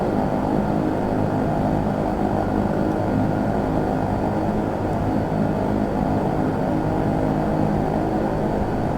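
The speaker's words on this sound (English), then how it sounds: "So, I'm just gonna go ahead and taxi back." Airplane in the X-Plane flight simulator taxiing after landing, a steady loud propeller-engine drone and rumble held without change throughout.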